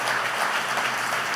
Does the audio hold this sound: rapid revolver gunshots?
no